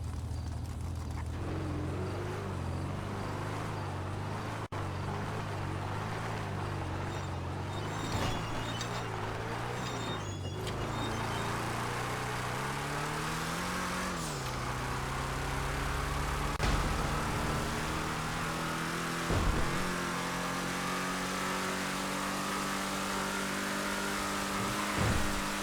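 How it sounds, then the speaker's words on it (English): Truck engine with a new exhaust in the GTA5 video game, a steady mid-pitched drone that climbs and falls through several revs and gear changes, moderately loud and alone for the full stretch. "I didn't know you put a new exhaust on your truck"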